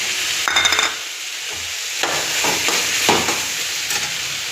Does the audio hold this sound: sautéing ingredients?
yes